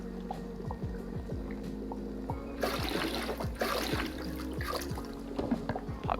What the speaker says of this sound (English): Let's add some more water to it.